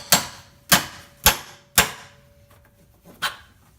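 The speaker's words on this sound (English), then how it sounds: "hammer the chisel deep in there" A hammer strikes a chisel driven into metal under a car during a coilover install: four sharp, ringing metallic blows at an even pace, then a fainter fifth hit after a pause, close by.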